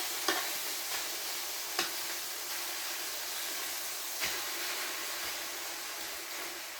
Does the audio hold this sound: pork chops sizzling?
yes